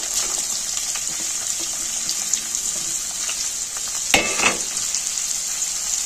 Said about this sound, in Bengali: এবার আগে থেকে যে পেঁয়াজগুলো কেটে রেখেছিলাম, কুচানো পেঁয়াজটা দিয়ে দেবো